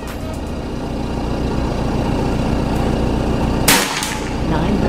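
A PCP air rifle, an Escobar model, fires a single sharp shot over a steady background rumble of an engine or traffic.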